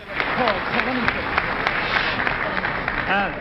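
Applause from a crowd at a New York delegation caucus in an amphitheater, a continuous dense patter of many hands throughout, with a voice talking over it.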